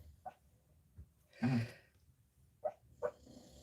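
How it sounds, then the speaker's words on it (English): A dog dreaming in its sleep gives a few soft, stifled yips and one longer snorting, huffing breath, widely spaced and faint, heard close up in a quiet room. "Can you hear Rosie dreaming?"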